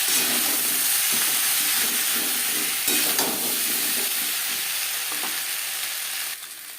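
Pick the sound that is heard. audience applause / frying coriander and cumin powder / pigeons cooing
frying coriander and cumin powder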